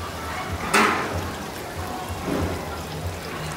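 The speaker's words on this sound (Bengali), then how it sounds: "এর মধ্যে আমি সামান্য একটু পানি দিব" Water splashes briefly into a pan of egg curry (dim bhuna) with a short, close pour, followed by a soft fainter trickle against a steady low background.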